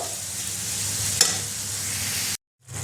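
Spiced chicken with garam masala and cumin powder sizzles as it is sautéed and stirred in a pan for Bengali chicken patis, a steady close hiss with one sharp scrape, then a brief cut to silence.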